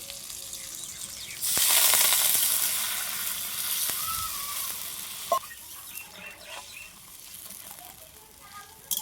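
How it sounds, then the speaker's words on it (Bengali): Water poured into a pan of fried potatoes and spices sets off a sudden loud sizzling hiss that slowly dies down over several seconds, with a few clinks of a utensil against the pan. "আলু আর মশলা ভালো করে কষিয়ে নিয়েছি, এবার জল দিয়ে দিচ্ছি।"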